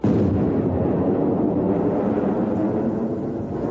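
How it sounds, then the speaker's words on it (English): A Patriot missile launching from an American battery in Dhahran, a loud, sustained roaring rush that starts abruptly and fills the whole stretch at steady strength, with no voices over it. "Another Patriot is taking off"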